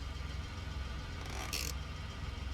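A truck engine idles in the video game SnowRunner, a steady low rumble throbbing evenly and close, with a brief hiss of air near the middle.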